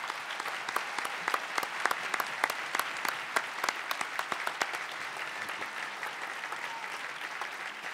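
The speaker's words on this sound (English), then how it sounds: "Let's please give a big downtown welcoming round of applause for candidates Carol Moseley-Braun, Miguel Del Valle, and Gery Chico." A mayoral forum crowd gives sustained applause to welcome the candidates: an even, moderately distant wash of many hands clapping, with crisp individual claps standing out across the whole stretch.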